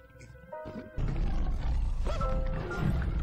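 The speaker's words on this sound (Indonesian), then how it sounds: "Dua ekor singa muncul di tempat itu." Two lions roar in an escaped-zoo-animal scene, deep growling roars rising over a noisy background with a few tonal bursts, loud and close.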